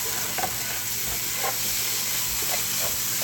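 Sofritas frying in a pan give a steady, close sizzle with a hiss of steam, broken by a few soft stirring scrapes, and no one talks.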